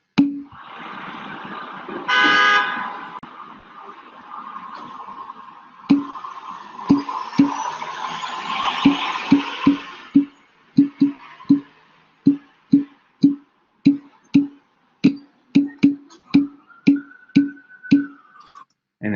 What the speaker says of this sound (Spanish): En el tráfico, en la ciudad